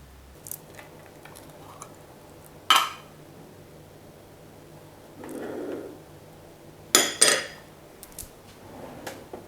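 Lid handled and closed onto a glass jar of salt-only fermented cabbage pickle in a home kitchen: a few separate sharp clinks and knocks spread across a quiet stretch, with a soft rustle in between, close and clear, no talking.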